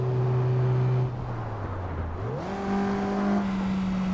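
A Mazda Miata engine in Assetto Corsa, driven on LA canyon roads, drones steadily, sags in pitch after a missed clutch shift, then climbs and settles into a new, higher revving hum.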